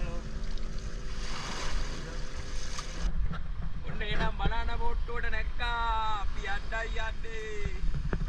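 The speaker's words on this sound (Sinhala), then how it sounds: "මේ බෝට්ටුවෙන් තමයි දැන් යන්නේ අපිව." A banana boat ride on the sea off Bali, with steady wind and water rushing around the boat, while voices chatter and shout excitedly over the noise.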